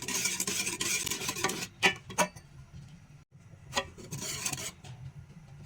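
A spoon scrapes and rubs steadily around the bottom of a pot of thick cassava flour mixture, with a few brief knocks against the side.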